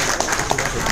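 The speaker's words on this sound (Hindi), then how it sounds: "आरती सोनी मैम के लिए एक बार जबरदस्त ताली होनी चाहिए" A seated audience gives a short burst of dense clapping for Aarti Soni, loud and close, lasting under a second.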